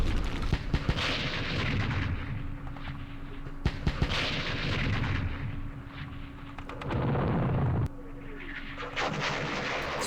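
Rocket and artillery explosions from the wargame Campaign Series West Front, set around Aachen and the West Wall, thud and rumble in repeated heavy blasts, some sharp cracks mixed in, with no talking.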